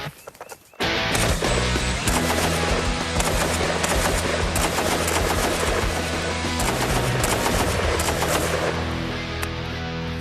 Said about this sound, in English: The Bren gun can be fired in the assault mode from the hip. Let's see what it will do on these enemy melons.